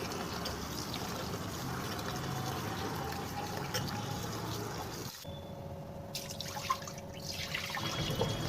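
Raw white rice is rinsed in water by hand in a kitchen, with a steady wet swishing and sloshing throughout, a brief pause, then more close trickling and dripping.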